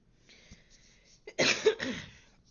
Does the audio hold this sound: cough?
yes